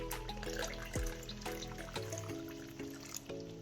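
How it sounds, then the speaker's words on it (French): Meat cooking broth is poured into a pot of Cameroonian ndolé with peanuts, a soft close liquid pour with light clinks and stirring of the pot. "On va rajouter de l'eau de cuisson de la viande."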